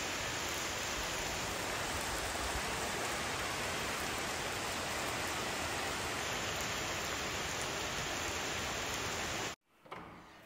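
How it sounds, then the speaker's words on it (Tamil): Heavy rain pours down steadily in Vadavalli, Coimbatore, a dense, unbroken hiss for about nine and a half seconds before it cuts off abruptly. "கரண்ட் வர கேப்புக்குள்ளே வடவழியில் ஒரு கனமழையும் வந்துருச்சு."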